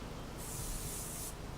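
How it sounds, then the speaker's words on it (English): Canola oil spray from a can hisses onto an iron skillet in one close, sharp burst of about a second, with quiet surroundings before and after. "it's just simply taking canola oil spray and spraying it"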